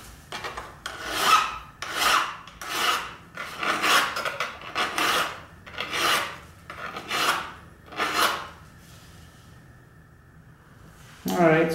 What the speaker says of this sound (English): I'm gonna file the nib here real quick. I have a triangle file to kind of get started a little bit.